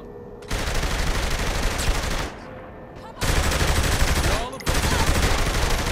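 Sustained automatic gunfire from the Saints Row The Third shootout: dense, loud bursts of machine-gun fire in three long stretches, broken by brief lulls.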